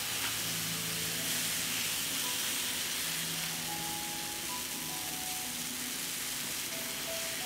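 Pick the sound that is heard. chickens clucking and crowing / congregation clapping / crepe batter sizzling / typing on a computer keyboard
crepe batter sizzling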